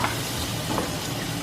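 Two white onions frying in a pan for seafood paella give off a continuous close sizzle with a faint stirring scrape, and no voices are heard.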